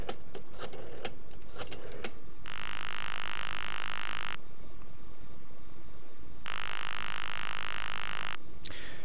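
A pre-1960 telephone exchange ringing tone sounds as two long buzzing bursts separated by a pause, after a few clicks of dialing.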